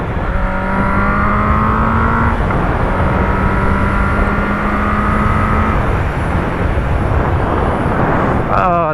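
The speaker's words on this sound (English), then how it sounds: "This exhaust sounds amazing." A motorcycle exhaust drones steadily while riding, with the engine note rising and shifting in pitch through a few gear changes amid loud wind rush.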